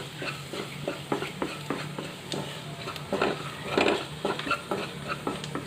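A spoon stirs vegetable masala with ginger-garlic paste and spice powders in a pan, giving a steady run of close scraping strokes over a soft sizzle.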